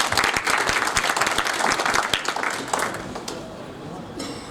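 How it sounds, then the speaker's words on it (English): A crowd claps loudly and steadily at a business awards celebration, the applause slowly thinning toward the end while voices murmur underneath. "So let's give her a round of applause."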